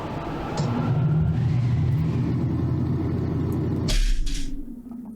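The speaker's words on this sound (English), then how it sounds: "The thundering roar of the wind was so loud that it could be clearly heard even indoors" In Remember 11, a thundering wind roars as a broad, steady rumble heard from indoors. It holds loud and even for several seconds before a sharp shift and a brief gust near the end.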